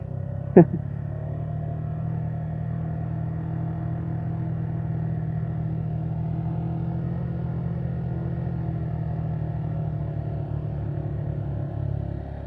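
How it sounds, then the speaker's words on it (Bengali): A motorcycle holds a steady low engine note while engine braking in one low gear on a steep mountain descent on the Keokradong bike tour, continuous and close, with a brief sharp knock near the start. "সেই আমি সব সময় ইঞ্জিন ব্রেক, এক গিয়ার ইঞ্জিন ব্রেক।"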